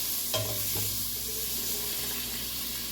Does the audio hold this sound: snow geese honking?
no